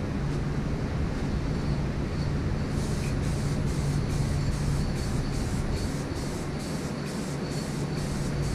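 Nitrocellulose lacquer being sprayed onto an acoustic guitar body: a steady, loud airy hiss runs continuously throughout, with faint rhythmic pulsing in the upper hiss from about midway on.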